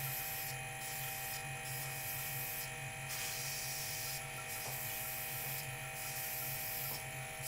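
A woodturning lathe spins with a steady, close motor whine and hum, broken by regularly spaced short bursts of higher-pitched buzzing, with no speech over it.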